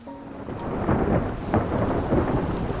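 Steady rain with deep rolling thunder, a continuous storm wash with low rumbling swells building and peaking about midway, no voices.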